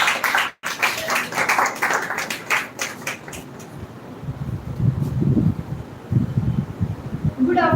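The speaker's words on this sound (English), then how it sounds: "Clap for Ms. Khushnuma." Brisk clapping from an audience at a women's education speech contest grand finale fills the opening seconds, then thins out and gives way to quieter room sounds and low murmuring.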